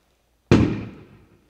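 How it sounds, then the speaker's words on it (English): A single loud firework bursts outside with a sharp crack, its boom trailing off over about a second; no one speaks over it. "those fireworks are pretty loud"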